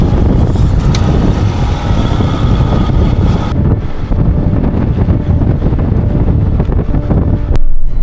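Heavy wind buffets the microphone on a 4x4 drive along remote tracks near Mount Gambier, a loud, steady roar with the vehicle's low rumble underneath and no talking.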